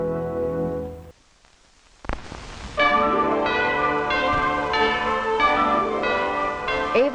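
Bell chimes ringing in an Avon Christmas television commercial, a clear melodic run of bright tones after a brief pause, following a fading earlier tone.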